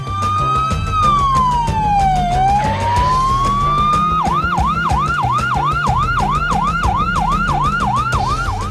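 Loud, close hospital ambulance siren, first a slow rising and falling wail, then switching to a rapid repeating yelp pattern over a low engine rumble.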